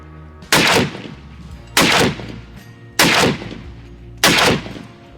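An AK-50 rifle fires four very loud, close, booming shots at even intervals of just over a second, each blast trailing into a short rumbling decay.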